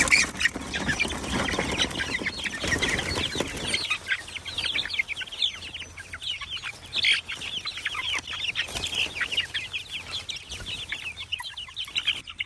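Dual-purpose chickens in a mobile chicken tractor cluck and chatter continuously, with many overlapping calls, close by and moderately loud.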